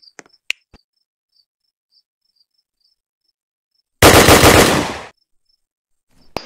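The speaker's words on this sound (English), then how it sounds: "Wow, M4A1 Colt. Bro, finally, man, I love this weapon." An M4A1 rifle in the Roblox game Redcliff City fires one loud, rapid automatic burst lasting about a second, preceded and followed by a few sharp clicks in otherwise near silence.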